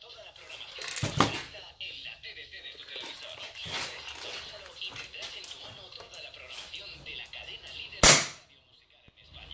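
HK45CT pistol shots fired over a chronograph, a few sharp, loud cracks spaced seconds apart, with a person talking between them.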